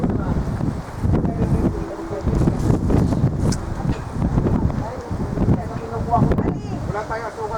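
Strong gusts of wind blow across a campground at Lake Hemet, buffeting the microphone in a steady roar while people talk nearby.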